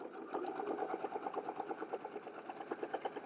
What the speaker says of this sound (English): as the sewing machine stitches through